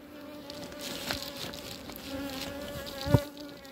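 Honey bees hum and buzz in a steady drone around an open beehive during a February pollen and candy check, close and continuous, with no voices.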